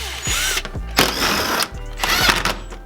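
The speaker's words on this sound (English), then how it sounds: "I've already decided where I'm gonna drill the first hole, which is one right here on the bumper itself" A power drill bores a hole into the bumper of an Evo 8. It runs in several short, close whirring bursts with brief ratcheting pauses between them, and no voices are heard.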